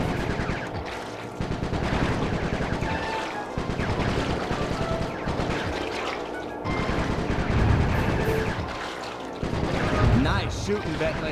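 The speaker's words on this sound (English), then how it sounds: "Nice shooting, Bentley." Bentley fires repeatedly in a Sly 3 battle with the Blue Vipers, loud bursts of gunfire and crashing impacts mixed with game music and a voice talking throughout.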